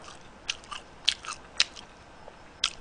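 Crisp, crunchy bites into a thick fried pork cutlet (tonkatsu), several sharp crunches spaced irregularly, close and fairly quiet over a low background.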